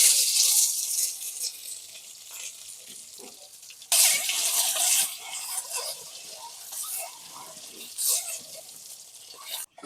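Boiled eggs fry in hot oil with a little turmeric in a home kitchen, giving a soft, hissing sizzle that swells in bursts and fades between them.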